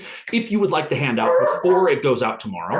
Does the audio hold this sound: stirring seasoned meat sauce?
no